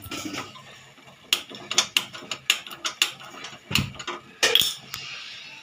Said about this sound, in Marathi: आता गॅस पेटवते।